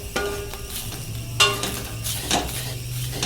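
Curry leaves crackle and sizzle in hot oil in a frying pan, with a spoon stirring and scraping in a few distinct strokes, close and fairly loud.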